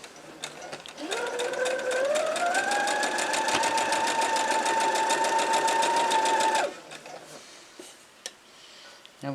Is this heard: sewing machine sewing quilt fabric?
yes